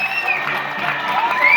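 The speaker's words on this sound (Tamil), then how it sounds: "அனைவரும் வெகுத்து கரகோஷம் கொடுக்கவும்" Crowd clapping and cheering at a traditional Tamil Mallar Kambam pole sport event, with boys and girls performing; steady, dense applause with shouts throughout, fairly loud and close.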